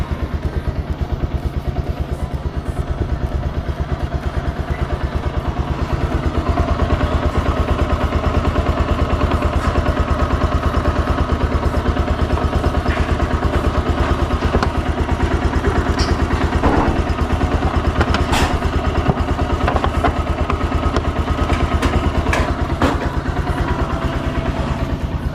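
A motorcycle engine runs and idles steadily and loudly up close for the whole stretch, with a dense mechanical rumble and some clatter and occasional sharper ticks over it.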